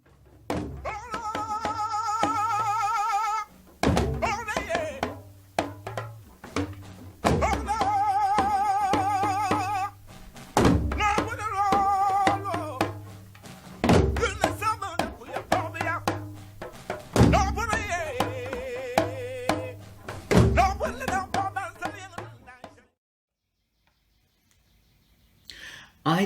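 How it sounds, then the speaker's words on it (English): Two African lunga talking drums play intricate, interlocking beats with deep pitched thumps beneath a singer's melodic voice. The performance is continuous and fairly loud, then ends in near silence during the last few seconds. "interval of time during which the two lunga players are accompanying the singer."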